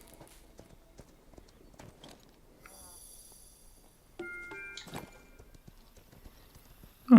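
Donkey hooves clip-clop in the video game Kingdom Two Crowns, a light run of soft taps over quiet background sounds, followed by a brief louder burst of game sounds near the end.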